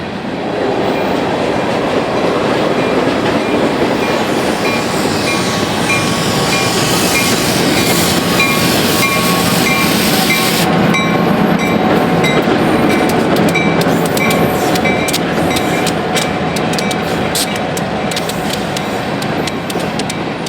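A Union Pacific freight train behind two EMD GP15 locomotives rolls steadily past, loud and close, with continuous rumble, clattering wheels and faint squealing tones.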